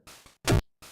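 Harsh, buzzy chiptune noise kicks programmed in LSDj hitting in a short sequence, one burst much louder and fuller than the rest, dry and close with no voices.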